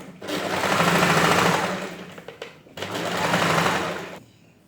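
A sewing machine top stitches a blouse with lining in two long steady runs, close and loud, with a brief pause between them and no talk.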